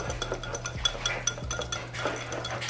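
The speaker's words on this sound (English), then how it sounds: "I squeeze some lime juice in there, and then we're gonna whisk that together" A whisk clinks rapidly against a bowl while mixing seasoning and lime juice for shrimp tacos, with quick, light, rhythmic metallic taps close by.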